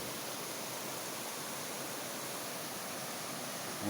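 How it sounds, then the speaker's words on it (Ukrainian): Steady, unbroken roar of the Kamianka waterfall in Ukraine, heard from a mountain above, loud and constant throughout. "Вон цей водоспад."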